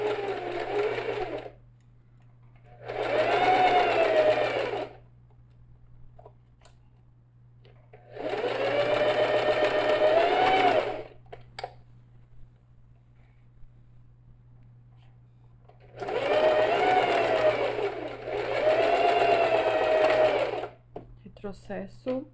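A sewing machine stitches slowly through a thick fabric layer in five separate bursts of a few seconds each, a close whirring drone broken by quiet pauses.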